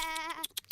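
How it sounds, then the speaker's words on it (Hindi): Sheep bleating in an animated Vrindavan pastoral scene, one long wavering bleat up close followed by a few short, choppy bursts. "अरे, वो मेरी भेड़ें हैं।"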